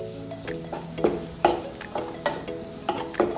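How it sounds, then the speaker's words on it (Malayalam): Butter sizzles in a hot pan with pepper powder while a paneer dish is cooked. Repeated stirring scrapes and clicks sound over a steady frying hiss, with soft tonal sounds in the background. "പിന്നെ ഞാൻ കുറച്ച് ബട്ടർ ഇട്ട് കൊടുക്കുന്നുണ്ട്"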